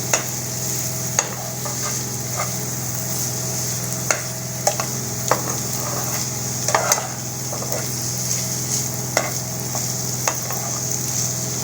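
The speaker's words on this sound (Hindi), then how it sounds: "इसको मैं अच्छे से ज़रा फ्राई करूंगी, इसका कच्चापन दूर हो जाए" Chicken omelette ingredients frying in a pan, a steady close sizzle with occasional scrapes and taps of stirring throughout.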